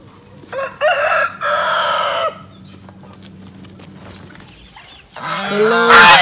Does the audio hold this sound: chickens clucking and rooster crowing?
yes